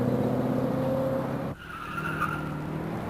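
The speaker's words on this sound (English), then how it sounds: "First, make a series of light throttle upshifts, checking that we have all 4 gears." A car with a four-speed AOD automatic transmission makes light-throttle upshifts on a road test: a steady engine drone, a sudden dip and pitch change midway as a gear engages, then a smoother, higher tone.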